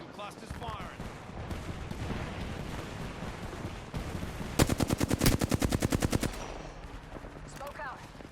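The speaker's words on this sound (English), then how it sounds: "Knuckle cluster's firing." A Knuckle Cluster weapon fires in a video game: a rapid, loud burst of evenly spaced automatic shots lasting under two seconds, set amid ongoing game noise, effects and a voice talking.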